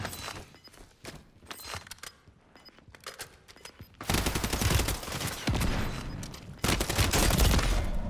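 Machine gun fire in Call of Duty Warzone 3, scattered shots and footsteps at first, then sustained loud bursts of automatic gunfire with crackling impacts filling the second half.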